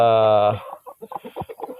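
A brooding hen on her nest gives one long loud harmonic squawk, then a quick run of low, throaty clucks, close by.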